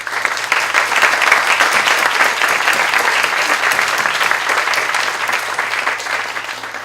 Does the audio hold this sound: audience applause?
yes